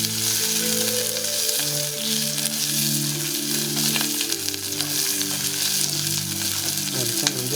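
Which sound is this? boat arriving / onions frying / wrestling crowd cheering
onions frying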